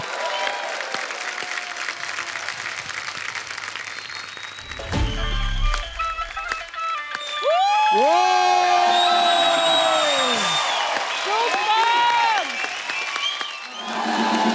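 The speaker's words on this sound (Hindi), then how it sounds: "जोरदार तालियां हो जाए उनके लिए।" A comedy show's studio audience greets a singer with steady applause that swells into loud cheering and long whoops and hollers, then tapers off.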